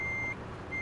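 A truck's reversing alarm in Euro Truck Simulator 2 sounds two short electronic beeps, clear and alone with a low engine hum beneath.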